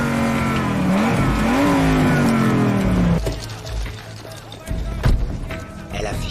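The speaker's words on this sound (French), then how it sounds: "Dégagez la route, j'ai une voiture." A car in a video game revs loudly through rising and falling engine pitches for about three seconds, then drops to a lower rumble with scattered knocks and skids.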